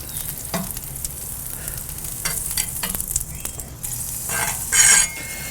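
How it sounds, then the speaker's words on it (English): Butter melts and sizzles on the griddle side of a Kamado Joe grill, a soft steady fry broken by a few light clinks and scrapes of a utensil, with a louder burst near the end. "I'm going to put down a little bit of butter on the griddle side here"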